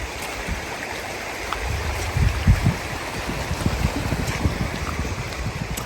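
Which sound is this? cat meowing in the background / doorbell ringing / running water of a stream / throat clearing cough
running water of a stream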